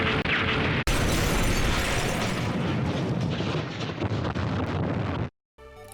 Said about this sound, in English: In the aftermath of the blast